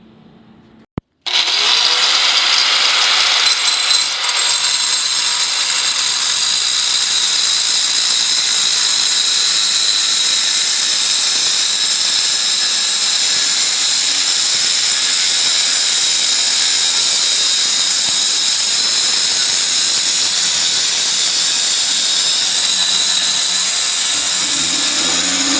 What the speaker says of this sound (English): about the easiest thing to get to cut through this cast iron pipe is your dry cut diamond wheel and a grinder